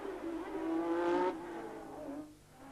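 Keke Rosberg's Formula 1 car at the 1985 Detroit Grand Prix approaches with a rising engine whine, swells loudly as it nears, then drops in pitch as it goes past and fades away.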